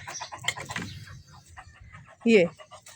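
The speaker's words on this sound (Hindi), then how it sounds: "इधर इनकी मुर्गियों की लड़ाई भी शुरू हो गई है।" Chickens squawk and cluck in a scuffle, with a sharp loud burst of agitated squawking near the end, while someone talks over much of it.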